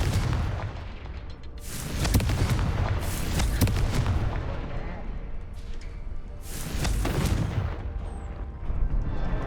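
Repeated Confringo blasting-spell explosions from Hogwarts Legacy, deep booming bursts that swell and fade in loud waves across the scene, with game ambience between them.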